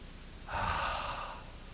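One long audible breath taken during an outdoor yoga pose with palms pressed together at the heart, close and soft, lasting about a second.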